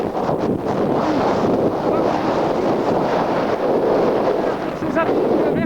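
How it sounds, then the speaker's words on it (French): Strong wind in the Alps buffets the microphone in a constant loud roar with gusty surges and no pauses, filling the whole clip. "le vent très fort"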